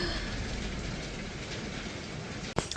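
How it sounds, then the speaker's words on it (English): Heavy hail and rain pour down outside a 1907 stone country cottage, a dense, steady hiss and patter throughout, with a sharp louder crackle near the end. "It is literally hailing outside. Oh my gosh, this is really loud rain."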